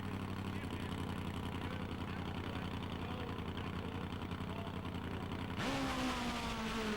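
A Top Fuel drag motorcycle engine roars at a 1991 street bike finals drag race, a steady harsh drone that suddenly rises in pitch as it revs harder near the end.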